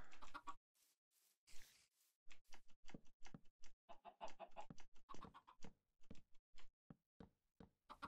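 Soft, scattered clucking and short clicky chirps from chickens in a video game come in uneven bursts, quiet and close, with no talking.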